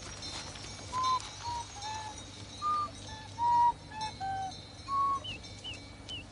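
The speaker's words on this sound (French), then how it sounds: "Son attention avait été attirée par des cris d'oiseaux." Birdsong from several small birds in a village setting in 1915 Portugal, with short clear whistled chirps and calls spaced irregularly and heard at moderate distance over a faint steady background hum.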